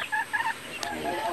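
Red junglefowl chickens cluck in short bursts, a few brief calls close by against a light background hum, with no talking.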